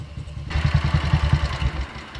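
A 1960 BSA Gold Star motorcycle engine catches after a brief quiet moment, then runs with a close, rhythmic, thumping beat of low pulses.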